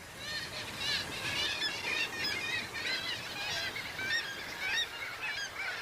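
Crowded seabird colony on sheer sea cliffs with boulder screes, including auks, a dense chorus of overlapping calls and honking cries at moderate distance, continuous throughout.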